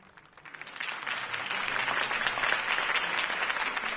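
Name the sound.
crowd applause after campaign speech in Batman Telltale video game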